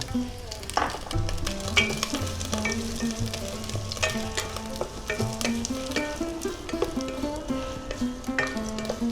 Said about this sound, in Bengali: নারকেল কুচিগুলো একটু ভাজা ভাজা করে নেব।